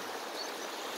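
The Bear River, running at about 130 CFS past a barren cobblestone deposit left by hydraulic mining, gives off a steady, broad rush of flowing water, close and constant, with no voices.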